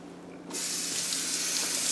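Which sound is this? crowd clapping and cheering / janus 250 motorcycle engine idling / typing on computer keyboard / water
water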